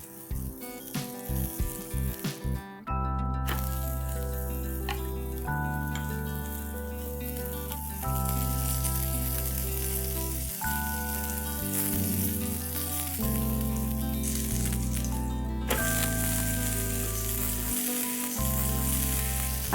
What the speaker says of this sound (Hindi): अब हम अपना पराठा तवे पे डालते हैं।